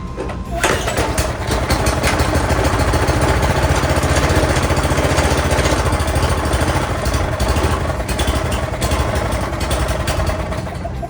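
A Snapper AWD push mower's small engine roars steadily and close by, loud and continuous, with an uneven, sputtering edge as it runs roughly.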